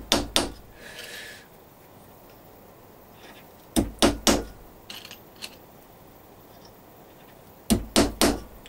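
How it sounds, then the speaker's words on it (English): Hammer blows drive nails into wooden Dadant beehive frame parts held in a vise, coming in tight bursts of two or three sharp strikes with quiet pauses between, close and loud. "So I'll just nail these in."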